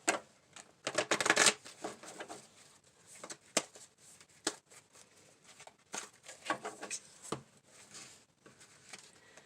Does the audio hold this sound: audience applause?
no